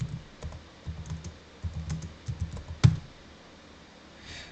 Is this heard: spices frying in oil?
no